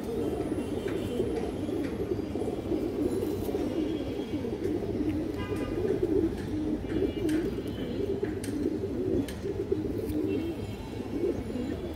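Chat Bangla pigeons with black lace and black wings coo continuously in a loft, a thick layer of low rolling calls with occasional faint chirps and clicks above.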